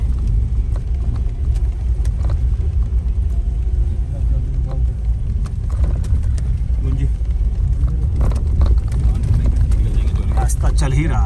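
A car climbing a mountain road with 36 hairpin bends on the Kailash Mansarovar route, its steady low engine rumble and road noise continuous throughout, close and fairly loud, with faint voices underneath.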